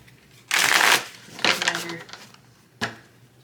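A deck of tarot cards is shuffled close by in two rustling bursts, followed by a short, sharp snap of cards.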